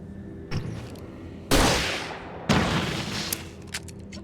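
Revolver gunshots in the video game Alan Wake Remastered: two loud, booming shots about a second apart, each ringing out in a long decaying tail, with a smaller pop before them and faint clicks afterward.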